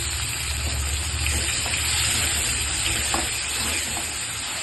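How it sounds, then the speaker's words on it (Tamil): Chopped onion and two medium tomatoes sautéing in a pan for a kuzhambu, a steady close sizzle with faint stirring scrapes and a watery, bubbling texture throughout. "இப்ப இதுலயே தக்காளி வந்து ஒரு 2 மீடியம் சைஸ் தக்காளி பொடியா கட் பண்ணி வச்சிருக்கேன். அதையும் சேர்த்து நல்லா வதக்கிக்கலாம்."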